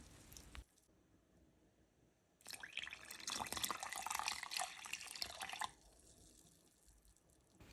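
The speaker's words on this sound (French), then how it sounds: "je verse les 500 ml d'eau tiède restants au centre de la farine" Lukewarm water pours into a bowl of flour for homemade no-knead French baguette dough, a steady close splashing and gurgling stream lasting about three seconds between quieter kitchen handling noises.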